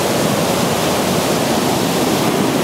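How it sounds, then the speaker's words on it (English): The Newhalen River runs high with snowmelt, a dense, unbroken rushing roar of water that stays loud and even from start to finish with no other sounds. "Newhalen River. The water's pretty high right now."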